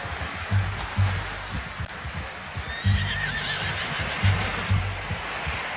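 A horse whinnies loudly over a steady rumble of hoofbeats in Red Dead Redemption 2, with repeated low thuds and a rushing outdoor background.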